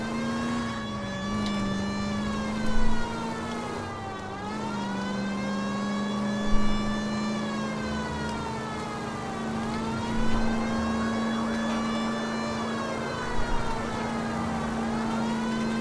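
A police siren in the video game L.A. Noire wails, rising and falling in slow, repeating sweeps over a steady engine drone, loud and continuous.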